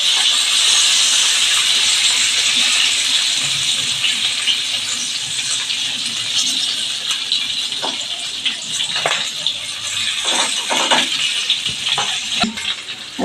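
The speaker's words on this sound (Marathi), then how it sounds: "अशा आतून परतून व्यवस्थित काढायच्या चांगल्या तळून अशा खरपूस होईपर्यंत तळायच्या" Stuffed green chillies frying in oil, a loud dense crackling hiss that settles slightly, with scattered pops and utensil clicks as the chillies are turned, no talk over it.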